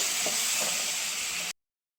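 Finely chopped tomato pieces frying in a hot pan for a spicy egg curry, giving a loud, even hiss of sizzling that cuts off abruptly after a second and a half.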